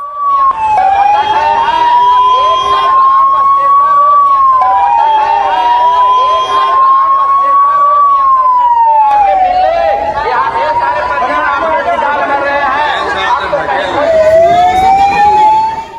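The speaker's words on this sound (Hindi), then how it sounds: "मौके पर एम्बुलेंस बुलाई गई, एम्बुलेंसेस दौड़ना शुरू हुई अशोकधाम से अस्पताल की तरफ।" Ambulance sirens wailing in a steady rising and falling pattern as ambulances rush from a temple stampede site toward hospital, loud and continuous over a noisy crowd.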